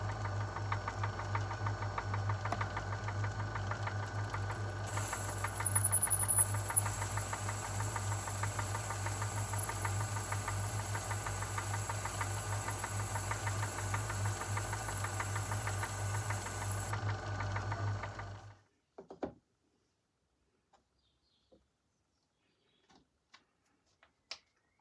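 A lathe cuts a thread relief with a hand-ground tool, a steady motor drone joined by a thin high whine during the cut, then the machine winds down to silence broken by a few scattered clicks.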